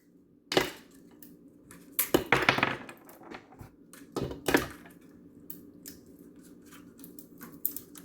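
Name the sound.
ice cubes added for protein strawberry milkshake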